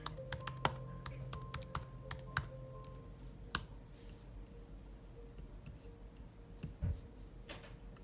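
Keys on a MacBook keyboard are tapped in quick, uneven clicks at close range, dense at first, then thinning to a few scattered presses over quiet room tone.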